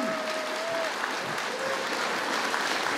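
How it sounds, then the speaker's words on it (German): A town hall audience at a spring festival in Erkner claps steadily, a dense, even wash of applause lasting the whole moment, with no speech over it. "jetzt gibt's nochmal einen großen Applaus."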